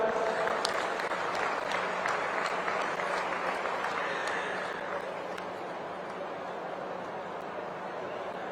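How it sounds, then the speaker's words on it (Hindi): A crowd at a public event in Pinjore with the Haryana Chief Minister applauds students after a long trek, with steady, dense clapping that carries on for several seconds and eases slightly toward the end. "तालियां हो जाए जरा जोरदार।"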